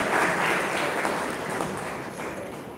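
Villagers at a Gram Panchayat honouring ceremony in Chikhalgaon applaud to welcome the panchayat officials. It is a dense, continuous round of clapping that stays loud, then eases off slightly toward the end.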